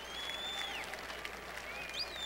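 At the 1986 Masters final round, a golf gallery applauds in a soft, distant wash, with faint whistling or tonal sounds drifting over the crowd noise.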